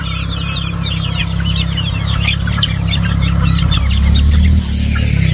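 Two roosters and a hen cluck and crow close by, their calls scattered over a steady low engine-like hum that runs throughout.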